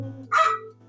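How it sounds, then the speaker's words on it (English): A single dog barks once, loud and near, in a short burst over a steady low background hum, with no talk. "Sorry about the dog barking in the background."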